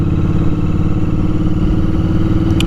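A Royal Enfield Interceptor 650 parallel-twin motorcycle engine runs nearby, a loud, steady, throbbing drone at an even pace throughout.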